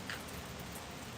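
Steady rain hisses outdoors at Coos Canyon, Maine, heard from under a shelter as an even, faint wash of patter.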